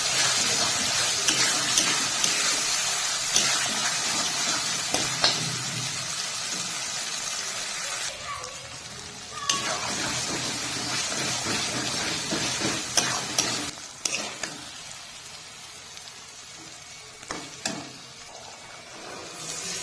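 Spice masala with a whole garlic clove fries for chicken ghugni, a continuous close sizzle and hiss with intermittent stirring scrapes and clinks that thin out briefly before resuming, no voices.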